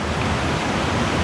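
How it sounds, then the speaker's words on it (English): Small river rapids on Vancouver Island, a continuous rushing wash of water, steady and fairly close, with no talk over it. "Looking back at the little rapids."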